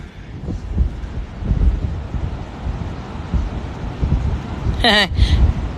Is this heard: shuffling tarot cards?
no